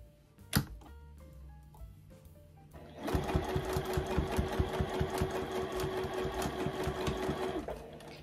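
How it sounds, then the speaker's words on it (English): A domestic sewing machine stitches steadily around the edge of a small quilted fabric mug rug, its rapid needle clatter running continuously for several seconds after a brief click and quiet handling. "we're gonna stitch all around that mug rug"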